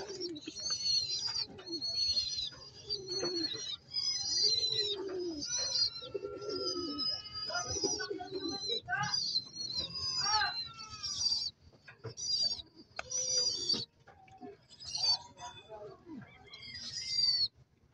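Young pigeons call continuously and close up as they are fed after eating and drinking, a dense run of repeated squeaky, wavering begging cries.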